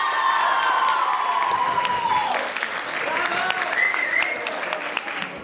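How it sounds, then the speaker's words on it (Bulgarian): An audience at a school competition final applauds a seventh-grade finalist, giving steady loud clapping with some cheering and shouts, while a high sustained musical tone sweeps through at the start and a voice speaks over it. "силни аплодисменти за Виктор Дянков"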